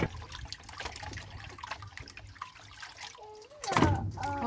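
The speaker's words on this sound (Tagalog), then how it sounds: "Itapon ko na tong tubig." Water tipped out at home during household chores, a gurgling trickle and splash that swells into a louder pour near the end, close by, with faint background sounds and no clear talk.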